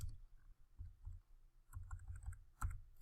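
Quick, light key clicks from a computer keyboard tapped in irregular bursts, fairly close, with no talking.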